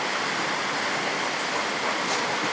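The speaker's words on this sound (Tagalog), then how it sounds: "Baha na, Ker" Floodwater rushes steadily into a house as a continuous broadband roar with no breaks.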